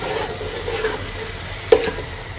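Food fries lightly in a pan with a soft, steady sizzle and occasional stirring scrapes, a moderate hiss with one brief sharper clatter.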